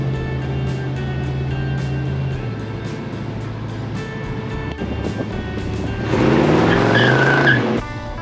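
A 1968 Dodge Coronet R/T 440 Scat Pack muscle car drives down the highway with a continuous low engine drone that swells into a louder, rougher surge near the end before dropping back. No one speaks.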